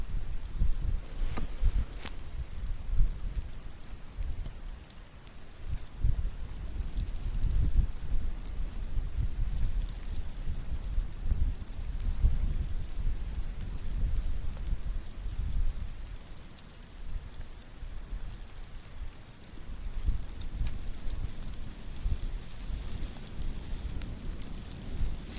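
Winter wind gusts across a frozen Oka river at an ice-fishing spot, a continuous low rumble and buffeting roar close to the microphone that swells and eases over about twenty-five seconds.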